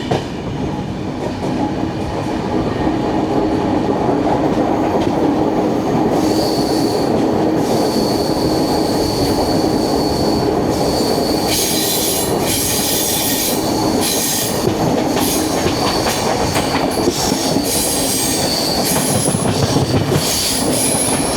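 A Kozhikode–Thiruvananthapuram Jan Shatabdi Express with new LHB coaches rolls steadily past at close range near Vallathol Nagar, its loud continuous rumble carrying wheel squeal and rail clatter for the full length, with no voices.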